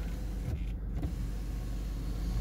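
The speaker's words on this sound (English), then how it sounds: "we can have a blind going back and forth" The motorized sunroof blind of a 2016 Jaguar XF AWD R-Sport moves back and forth with a low electric whirr, close up over a steady cabin hum with brief pauses as it changes direction.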